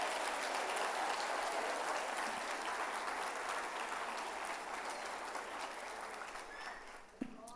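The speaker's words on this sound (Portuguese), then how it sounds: "Pode aplaudir, se for para ele." A congregation applauding during a family church service, sustained broad clapping that gradually fades toward the end, with a single sharp knock near the close.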